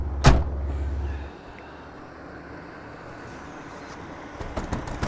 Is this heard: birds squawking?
no